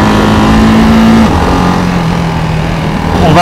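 A Ducati Hypermotard 698 RVE single-cylinder motorcycle revving hard on a mountain road, a loud close engine note that holds high, then drops in pitch as it shifts and pulls on, with no talk.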